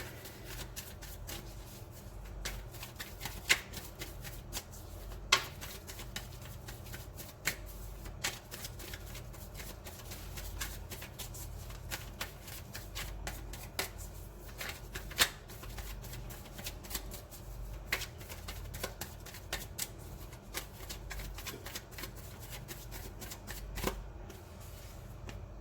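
A deck of tarot cards is shuffled over and over nearby, giving a long run of soft riffles and light snaps with no speech.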